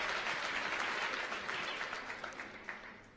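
An audience at a TEDxReno salon event claps in a dense, steady round of applause that gradually fades over a few seconds.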